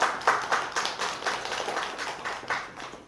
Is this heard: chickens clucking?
no